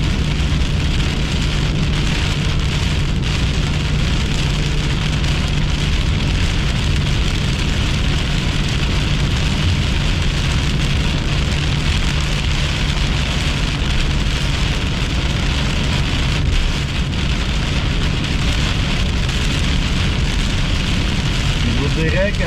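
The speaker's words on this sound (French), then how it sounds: "Il y a beaucoup de pluie." Steady heavy rain pours down without pause, a dense continuous hiss with a low rumbling undertone throughout.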